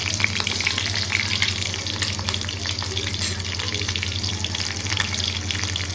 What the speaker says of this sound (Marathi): मिरच्या तेलावर परतून घ्यायच्या आहेत